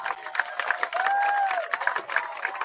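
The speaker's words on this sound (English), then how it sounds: "how about a round of applause for our awesome cheerleaders tonight?" A high school varsity football crowd, Pequea Valley against Biglerville, applauds the cheerleaders: a continuous wash of clapping and scattered cheers from a moderately distant stand, with a brief sustained whistle-like tone in the middle.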